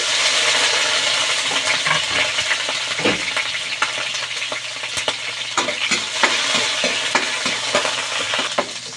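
Garlic and onion sautéing in hot oil for pancit batil patong, a steady loud sizzle with scattered crackles and occasional clinks of a stirring utensil against the pan, no talking.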